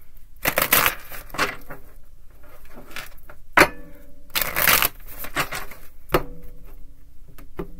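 Cards are shuffled in several quick riffling bursts, crisp and close, separated by short pauses and light handling noises.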